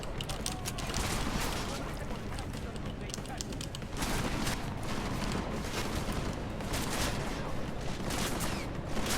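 Gunfire in the video game Deus Ex: Mankind Divided: rapid bursts of shots and crackling fusillades in two dense waves, loud and sustained, with a voice talking intermittently over them.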